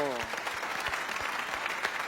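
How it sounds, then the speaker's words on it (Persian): Audience applause welcoming the cleric Haj Agha Mousavi Vaez onto the stage at a comedic Persian event: a dense, steady wash of clapping throughout, moderately loud, with a brief voice at the very start. "بفرمایین تشویق بکنید آقای موسوی واعظ رو"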